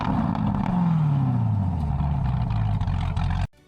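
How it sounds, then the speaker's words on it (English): A supercharged 6.2-liter LT5 V8 in a Chevrolet Corvette ZR1 roars loudly, its pitch sliding steadily downward as it passes or eases off. The sound cuts off abruptly near the end. "It stuck to its pure American roots with an engine that roars like a war machine."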